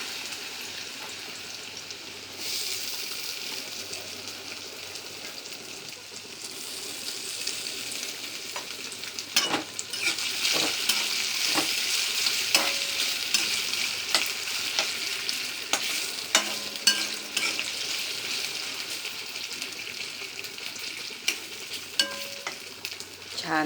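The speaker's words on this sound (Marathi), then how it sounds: "आता तेलामध्ये बटाटे टाकूया, ते फ्राय करून घेऊया." Potatoes frying in hot oil: the sizzle swells sharply as they go in, then hisses on steadily and loud, with intermittent utensil scrapes and clicks.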